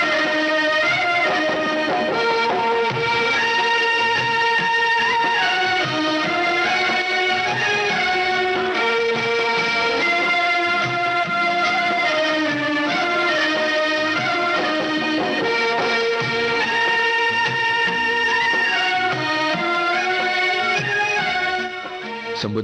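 Song from the film Sambandh, played over the radio: a full Hindi film song with sustained male vocal and orchestral accompaniment, continuous and loud throughout.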